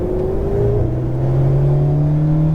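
An Alpine sports car accelerates once more on a racetrack after braking, its engine note climbing steadily in pitch with a close, loud, continuous drone and no talk over it.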